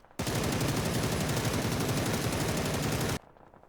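Assault rifle fire in PUBG, a single unbroken automatic burst of about three seconds with rapid, evenly spaced shots, loud and alone, ending cleanly into quiet.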